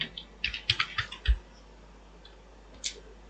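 Code typed on a computer keyboard, a quick burst of about eight close key clicks, then a pause and one last pair of taps, with no talking.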